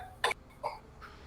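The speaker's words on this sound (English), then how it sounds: "they're not impressed with the coughing" A person coughs twice during a tabletop role-playing game session: a sharp burst, then a softer one, and a faint trailing sound. The coughs are fairly quiet and close, with no talk.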